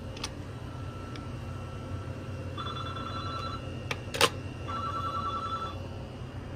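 Telephone ringing indoors, two separate electronic ring bursts at a moderate distance over steady background hiss, with a brief sharp knock between them.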